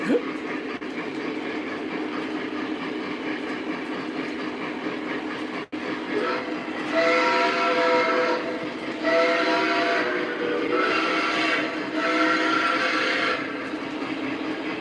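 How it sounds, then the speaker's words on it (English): A model steam train on a horseshoe layout rumbles along its track with a rhythmic clatter, and a whistle-like tone sounds in repeated bursts over the steady running. "I'm waiting for this train to go by."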